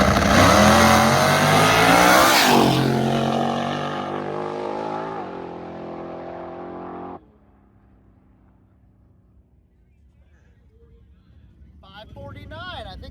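Race cars scream past at full throttle, loud and close, their engine note sweeping down as they pass. The roar then drops to a faint low rumble before another car approaches.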